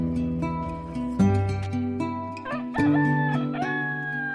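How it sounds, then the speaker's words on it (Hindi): A rooster crows in the morning as a story sound effect, one long rising call loud and close over soft music. "तभी मुर्गे के बाग देने की आवाज सुनाई देती है"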